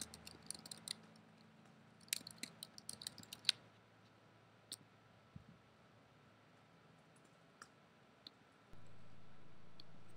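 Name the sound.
typing on a computer keyboard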